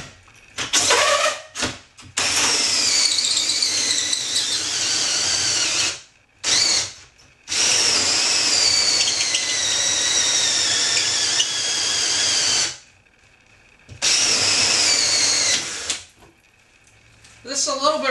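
An 18-volt lithium cordless drill whines steadily through long bursts as a hole saw cuts into an acrylic tank, pausing briefly between runs, with a high grinding edge to the cutting.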